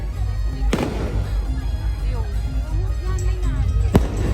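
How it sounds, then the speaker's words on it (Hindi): Sharp cracking bursts of firecrackers at a wedding procession, two loud pops standing out over a steady background din of music and crowd chatter. "पटाखा फूटने से दूल्हा आगे स्वागत में।"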